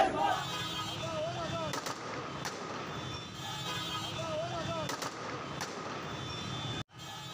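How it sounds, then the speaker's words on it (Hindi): Police fire guns at protesting workers, producing several sharp, distant-sounding cracks spaced a second or two apart over a constant outdoor background murmur, with voices faintly present. "किस तरह से पुलिस वाले कारकुनान पर गोलियां चला रहे हैं"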